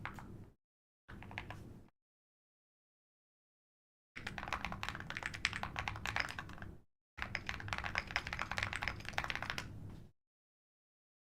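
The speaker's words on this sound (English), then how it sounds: "Sorry, just typing real fast." Rapid bursts of computer keyboard typing in separate runs broken by silences, close and fairly quiet, with no talking.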